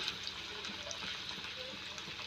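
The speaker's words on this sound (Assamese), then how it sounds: "পিঁয়াজখিনি অকণমান ৰঙা পৰালৈকে ভাজিম।" Onions fry in a pan until lightly reddened for a taro-stolon bhaji, a steady, soft sizzle with faint crackles and pops throughout.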